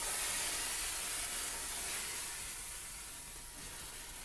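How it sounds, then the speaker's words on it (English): Chief Steamer 125 PSI steam cleaner spraying steam on a salt-covered car hood, a steady broad hiss that holds throughout and tapers slightly, with no talking. "So we have plenty of volume of the Optimum No Rinse in with the steam."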